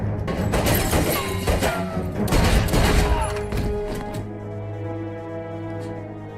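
Gunfire in a Person of Interest TV scene, loud dense bursts of shots and crashing impacts for several seconds, then trailing off into a ringing quieter tail.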